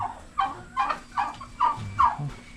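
Turkeys gobble repeatedly nearby, a rapid series of warbling calls coming in quick bursts one after another.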